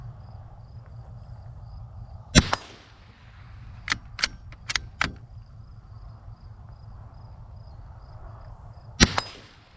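A small .22 rifle fires six sharp, cracking shots outdoors: a single shot, a quick cluster of four, then one more after a pause, while crickets chirp steadily in the background.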